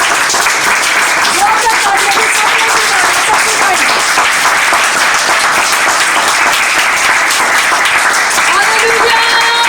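A congregation at a Christian prayer meeting in Mardan breaks into loud, sustained applause, a dense wall of clapping that stays full and steady throughout, with a few voices rising over it.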